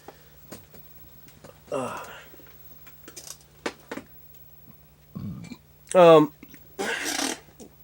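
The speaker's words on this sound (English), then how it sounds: "It's because Dr. Pepper makes me belch." A person belching after drinking Dr Pepper: several short, loud burps spaced out among soft mouth and handling noises in a quiet room, with no talk.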